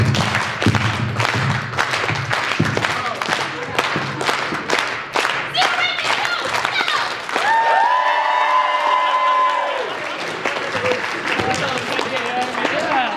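A convention audience at a Power Rangers fan panel claps and cheers in sustained applause that fills the room, with voices calling out over it and a brief sung or whistled tone in the middle.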